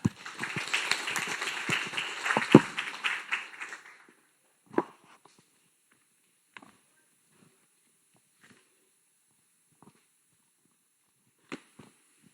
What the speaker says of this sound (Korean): 여러분 격려의 박수로 환영해 주시면 감사하겠습니다